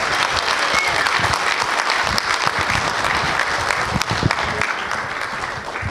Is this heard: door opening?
no